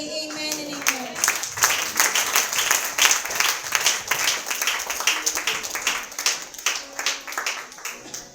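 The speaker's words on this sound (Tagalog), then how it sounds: "Isa pa po natin palakpakan ng Panginoon" Sustained applause from a church congregation at an anniversary service honoring the Lord, dense hand clapping filling the room steadily for several seconds with faint voices underneath.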